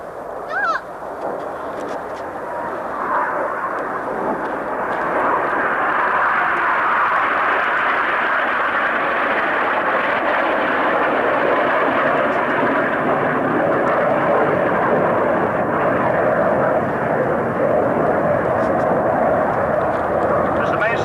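Aerobatic display aircraft of a synchro pair fly past at the 1992 RAF Coningsby airshow, a loud jet roar swelling and holding for many seconds as a commentator speaks over it.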